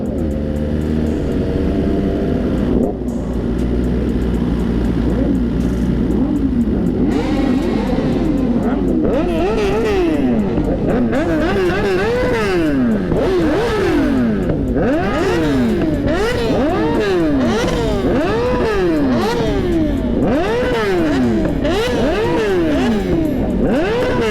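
Loud sportbike engines, including a Yamaha R1, rev repeatedly, pitch climbing and falling in waves as they accelerate and shift, with a constant rumble of traffic underneath.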